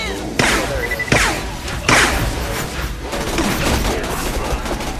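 Heavy gunfire from a battle in the video game Borderlands: The Pre-Sequel: sustained rapid shooting with several sharp, louder bursts standing out in the first two seconds, continuing densely to the end.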